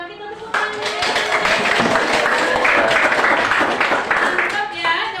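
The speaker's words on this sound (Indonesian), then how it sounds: "kita tepuk tangan" Students in a classroom clap together in a lively burst lasting several seconds, close and loud, with voices and cheering mixed in throughout.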